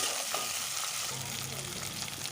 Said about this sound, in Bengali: সিদ্ধ করা মটরটা, একটু নাড়িয়ে নেব।